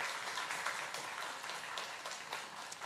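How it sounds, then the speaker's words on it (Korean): A church congregation applauds the choir, a dense, moderately distant patter of many hands clapping that stays steady across the short stretch. "다시 한번 우리 찬양대회에서 박수 한번 해주세요."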